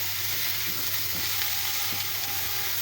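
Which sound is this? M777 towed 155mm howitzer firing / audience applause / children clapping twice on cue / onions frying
onions frying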